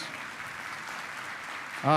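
A church congregation applauds during a family worship service, a soft, steady wash of clapping held at a distance for about two seconds, with a voice cutting in at the very end.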